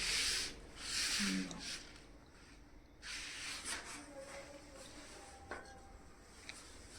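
Vigorous hand rubbing in a home, a raspy scrubbing that comes in strong bursts during the first half and then continues more softly, with faint background sounds and no speech.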